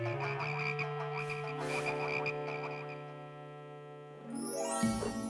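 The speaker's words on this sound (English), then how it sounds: "You, make the frogs go away." Cartoon frogs croak in a dense, steady chorus that fills the whole clip, with no talking over them, ending in a rising whoosh as the croaking stops.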